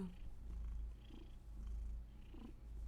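A cat purrs steadily up close, the low rumbling cycle pulsing in slow rhythmic waves with each breath, soft and continuous with no talking over it.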